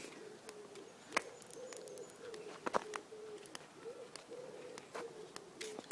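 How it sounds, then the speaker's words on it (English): Soft, low cooing of pigeons repeating faintly in the background, with occasional sharp clicks and bird chirps over a quiet outdoor ambience. "I can hear the pigeons cooing."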